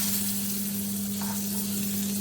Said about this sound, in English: So we're going to sear that on all sides